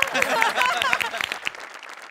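Studio audience of a Marathi comedy show clapping in a quick burst of dense applause that thins out and fades within two seconds.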